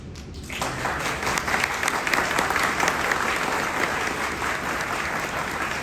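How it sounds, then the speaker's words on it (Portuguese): Sustained applause from a crowd, steady dense clapping that starts abruptly and continues evenly throughout. "Eu vou repassar para ele essas palmas, ele merece."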